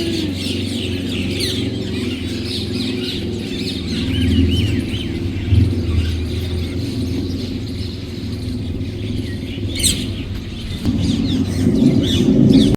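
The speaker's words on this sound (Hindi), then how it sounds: "बहुत सारे तोते कबूतर वगैरह थे यहाँ पे, और इनकी आप आवाज सुन सकते हो" Busy outdoor birdsong from parrots and pigeons, many chirps and calls overlapping, steady and fairly close, over a low rumbling background, at a temple in Kurukshetra.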